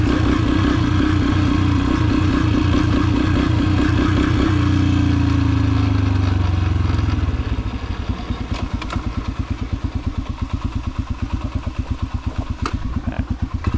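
A dirt bike engine runs close and loud, a throbbing, rumbling revving that settles into a steady rapid chugging idle, with no talk over it.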